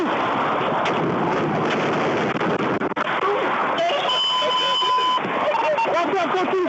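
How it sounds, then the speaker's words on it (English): Gunfire during a tense police confrontation, sharp reports ringing out amid shouting officers and loud chaotic noise, with an alarm-like tone sounding in the background. "Shots fired!"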